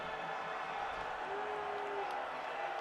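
A huge Beaver Stadium crowd of over 107,000 at a Penn State versus Michigan football game roars steadily on third down, a dense continuous wall of noise with a faint whistle-like tone drifting through it.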